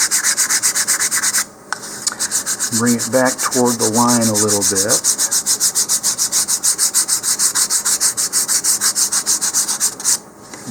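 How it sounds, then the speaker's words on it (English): Steady rhythmic sanding strokes on a wooden model rocket part, close and continuous, with a person speaking briefly partway through. "Looks like this side needs some more sanding."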